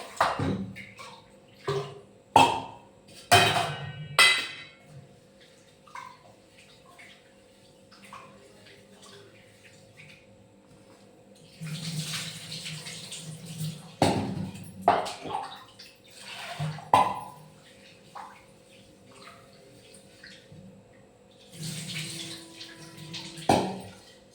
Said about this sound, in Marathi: तांदूळ मी छान असं साफ करून ठेवले आहे, तर छान आता धुवून काढून घेऊया